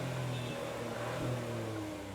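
Hyundai Venue N-Line 2025 dual-tip exhaust giving a steady, loud engine drone with a deep low rumble and a slight swell midway, running continuously throughout.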